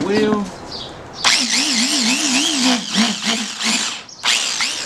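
An electric drill spinning a Suzuki LT250R quad wheel during polishing whirs and revs in short bursts, its pitch wavering up and down as it spins, with brief pauses between runs.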